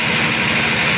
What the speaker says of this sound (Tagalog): pag mag-start na yung makina